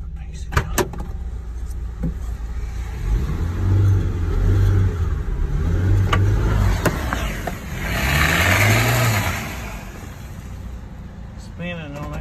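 A stuck truck revs hard on a hill, its engine surging and falling in long swells while a tire spins in place; voices talk over the noise throughout.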